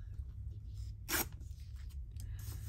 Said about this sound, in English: tear this bit off